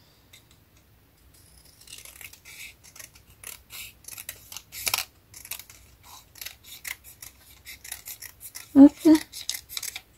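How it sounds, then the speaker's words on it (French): Scissors cut paper for a safari-themed scrapbook album. Close, crisp snips fall in a quick irregular series, with a brief spoken word near the end. "Alors je vais finir au ciseau."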